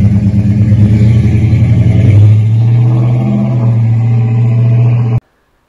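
A 1969 Dodge Charger with a weathered patina cruises through town, its engine a loud, steady low rumble throughout, with a swell in throttle around the middle before the sound cuts off abruptly.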